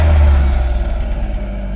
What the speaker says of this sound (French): Donc sonorité au démarrage